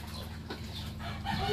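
Chickens clucking nearby on a small family farm, soft repeated clucks over a low steady background hum, moderately quiet, with no talking.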